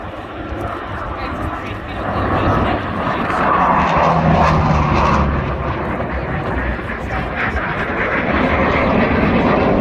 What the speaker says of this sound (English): the two Typhoons are keeping watch over it as it comes into land